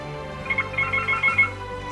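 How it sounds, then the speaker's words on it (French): A computer sounding an incoming-call ringtone, a short, repeated high electronic warble that pulses several times over two seconds against a steady background hum. "Non, c'est le PC qui sonne."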